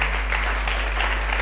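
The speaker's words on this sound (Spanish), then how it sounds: "Démosle una ofrenda de aplauso al Señor." A church congregation claps together in praise during a Spanish-language service, a steady sustained applause under a low continuous hum.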